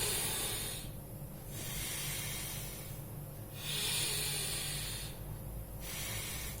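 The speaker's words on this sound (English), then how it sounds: "So this is the left nostril breathing." Left nostril breathing exercise: a person draws slow, steady breaths through one nostril, producing a continuous airy hiss that swells and eases in a regular rhythm, close and alone without talk.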